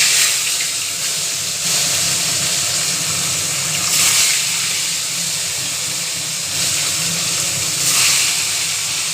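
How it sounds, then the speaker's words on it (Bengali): Fish sizzles in hot oil with turmeric in a kitchen pan, a loud, steady broadband hiss that swells and eases slightly every few seconds, close up and continuous with no voices. "এদিকে আমার মাছটা ভাজা হচ্ছে"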